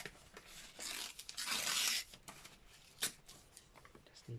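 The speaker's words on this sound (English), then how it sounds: "let's just tear a bit up" Someone tears a page out of a glue book by hand, making a loud, sharp rip that lasts about half a second, with quieter rustles and small crinkles of paper before and after.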